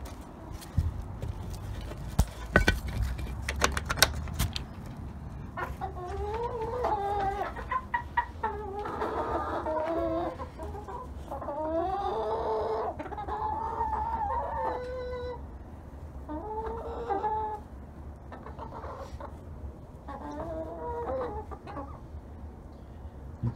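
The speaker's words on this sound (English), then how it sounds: "Now we'll go over here and check on our chickens" Salmon Faverolles chickens cluck in repeated bursts close by over a low steady background hum, with a few clattering knocks near the start.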